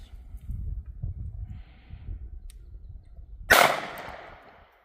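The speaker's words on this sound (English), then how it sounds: "We'll take 5 shots and see what it does" A single sharp, loud gunshot from a .380 pistol firing Interceptor rounds cracks out after a few quiet seconds of low rustling, with a decaying outdoor echo trailing behind it.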